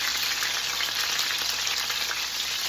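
Seasoned chicken sears in a hot pan, giving off a steady, dense, close hiss of sizzling fat with no pauses and no talking.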